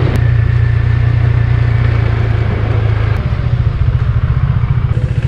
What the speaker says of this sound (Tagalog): This is the advantage of manual transmission vehicles. You can do engine braking.